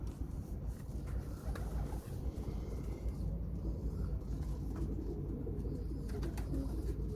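Lightweight summer pigeons cooing in a loft, a continuous low throaty burble from several birds close by, with a faint rumble underneath.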